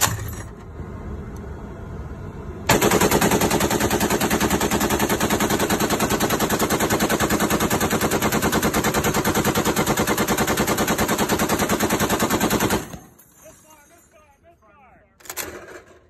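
A .50 caliber machine gun fires a long sustained burst aboard a US Coast Guard cutter, loud and continuous for about ten seconds, then stops abruptly; fainter shipboard noise and a brief clatter follow.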